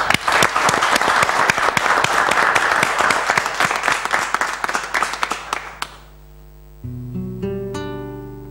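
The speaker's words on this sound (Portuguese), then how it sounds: "Uma salva de palmas para eles." Audience applause after a band finishes an original song at a live Portuguese music performance, dense clapping filling the hall for about six seconds before fading as instruments begin tuning and playing.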